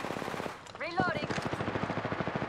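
Automatic gunfire in the battle royale shooter Apex Legends, rapid rhythmic bursts that run almost without pause, with a short gap and a brief synthetic chirp before the shooting resumes, fairly close and loud.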